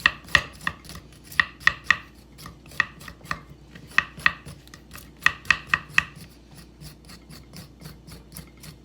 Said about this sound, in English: Now to clean in the ginger, you can go ahead and get the spoon and just scrape.